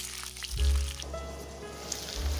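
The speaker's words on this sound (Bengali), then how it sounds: "আলু ফুলকপি খুব ভালো মতো ভাজতে হবে।" Potatoes and cauliflower frying in oil for a Bengali mixed vegetable curry, a soft sizzle under low rumbling thumps as the pieces shift in the pan.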